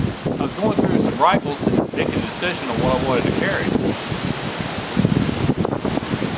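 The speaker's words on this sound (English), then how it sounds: "Apologize for the wind. It's kind of a blustery day today and a little bit chilly." Wind buffets a microphone outdoors on a blustery, chilly day, a steady rumbling roar under someone talking throughout.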